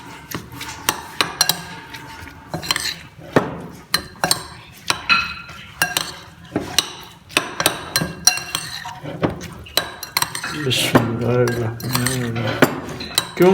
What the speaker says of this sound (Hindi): दही हो गई, इसको हम थोड़ा सा इसको मिक्स करेंगे इस तरह